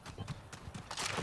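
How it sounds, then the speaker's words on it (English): Footsteps in Fortnite gameplay, a rapid steady patter of thudding steps close by and fairly loud, quickening and growing denser toward the end. "Got footsteps over here too."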